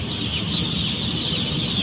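A poultry farm flock keeps up a dense, continuous high-pitched chatter of many chickens at once, loud and unbroken with no voices.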